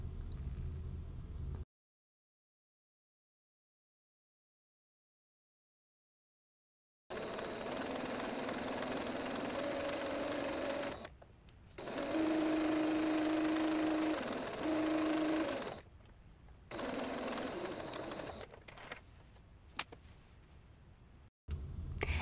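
A sewing machine runs in several bursts while stitching the side seams of a gathered summer skirt, a steady close-up mechanical whir with short pauses between runs, following a stretch of silence.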